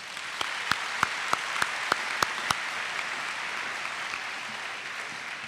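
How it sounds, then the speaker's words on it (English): Steady applause for school staff at an upper school awards ceremony, a dense wash of clapping from an audience with a few sharper individual claps standing out early on, holding at an even level throughout. "Let's give them all a round of applause"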